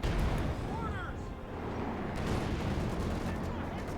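An explosion from a satchel charge thrown onto a Panzer IV tank in the Company of Heroes 2 strategy game, a burst of blast noise amid ongoing battle rumble and gunfire, with a commentator talking over it.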